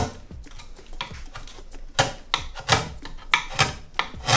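A chisel roughing in the wood of an acoustic guitar body, sharp scraping strokes landing in a quick uneven rhythm, close and fairly loud, with no talk.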